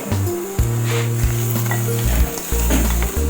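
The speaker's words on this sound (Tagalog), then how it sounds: "So, kagandahan sa pan mo, nakakapag-gisa ka ng walang oil." Garlic sautéing in a dry pan without oil, a loud close sizzle that hisses continuously with small stirring scrapes, running alone with no talk.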